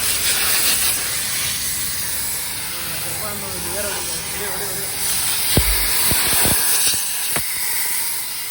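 Continuous close hissing spray of water hitting a car during a wash, steady throughout, with a few sharp knocks and a faint voice partway through.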